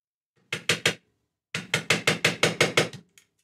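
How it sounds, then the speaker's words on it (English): A plastic hammer tapping a guitar part into place in a luthier's workshop: three quick knocks, a short pause, then a run of about eight evenly spaced, crisp taps, close and loud. "Let's tap that in. Plastic hammer."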